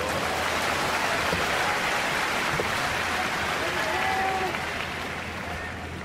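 Crowd applause and cheering fill an arena during a Pro Wrestling NOAH tag match at the Budokan, a steady dense roar with commentary running over it.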